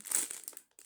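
A brief burst of plastic packaging from a Shein clothing order crinkling up close, fading quickly, then a faint final rustle.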